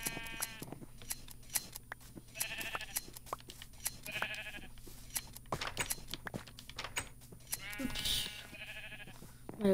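Minecraft sheep bleat in short wavering calls, four or five spaced bursts over quiet game ambience, with sharp snipping clicks of shearing in between and a person talking at times.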